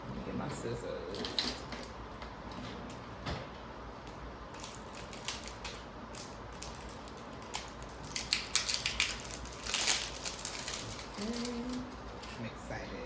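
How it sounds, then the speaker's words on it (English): Scissors snip through quilted skirt fabric in scattered short cuts, close and fairly quiet, with faint metallic clicks and rustling between snips. "Let me get my scissors."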